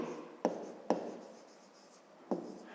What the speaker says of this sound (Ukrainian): Ну що ж, записуємо, як завжди